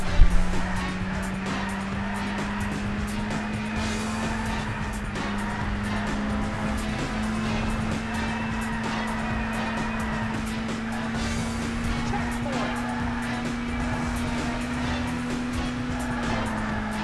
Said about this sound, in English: Drift into oncoming traffic.